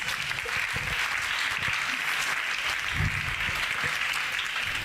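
A church congregation claps together during a confession service, a continuous, even wash of many hands filling the hall with no clear pauses.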